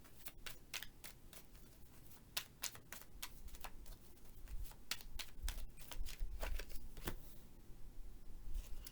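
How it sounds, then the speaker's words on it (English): Tarot cards being shuffled in quick, crisp riffling bursts, a steady run of sharp paper flicks and slaps close to the ear with no talking. "Y'all see how I keep shuffling these cards?"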